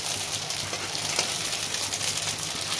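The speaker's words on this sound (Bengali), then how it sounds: "বড়াগুলো আমার ভাজা হয়ে গেছে" Chhana (cottage cheese) fritters fry in a small amount of hot oil in a wok, giving a steady, close sizzle with faint crackles throughout and no talk.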